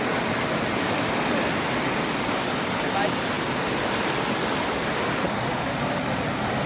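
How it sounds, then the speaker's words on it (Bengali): A waterfall roars in a dense, unbroken rush of falling water, loud and close, filling the whole stretch with steady broadband noise. "অপরূপ ঝর্ণা"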